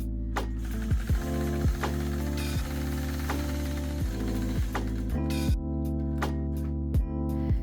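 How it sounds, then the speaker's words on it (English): Sewing machine running steadily while quilting a circle around a Sway 4 ruler, with a continuous mechanical hum and regular clicking stitch rhythm, fairly close and alone. "I'll engage my machine and glide my foot around the outside of my ruler."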